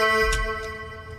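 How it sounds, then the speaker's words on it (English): Synthesized metallic horror drone, a sustained, ringing tone with dense, clangy overtones and a low rumble underneath, swelling briefly near the start then holding steady and close. "I call it metallic or metalloid horror drone."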